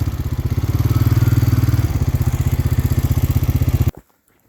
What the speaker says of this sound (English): Put the tractor in the way to block him so they didn't run down past the barn here.